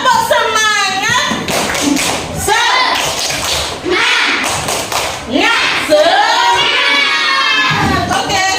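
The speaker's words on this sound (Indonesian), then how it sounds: "Oke, tepuk semangat." Primary school pupils in an Indonesian classroom doing a rhythmic spirit clap, sharp group claps and taps mixed with children's shouting and chanting voices, loud and close.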